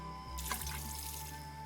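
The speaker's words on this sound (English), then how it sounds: "Now I can water them." Plants being watered in the Hello Kitty Island Adventure video game: a soft, even splash and trickle of water over a steady background hum, with a brief brighter spray near the start, close and alone.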